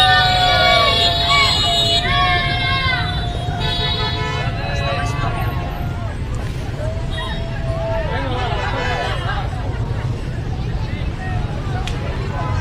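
Jammed street traffic in Hanoi builds a dense, loud din of idling and moving engines, repeated horn toots and a babble of crowd voices, with someone talking close over it throughout.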